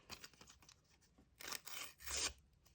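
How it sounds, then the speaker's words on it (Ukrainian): A package being torn open by hand, with several bursts of tearing and crinkling paper close up, some louder rips near the end, and no voices. "давайте відкривати наш пакет"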